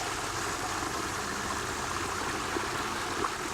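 A whole turkey lowered slowly into a pot of hot frying grease, giving a continuous, even rushing hiss of bubbling oil at moderate distance, with no talk over it.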